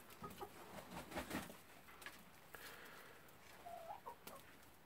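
Silkie chickens clucking softly with a few scattered calls, close by, over faint background noise and occasional movement sounds.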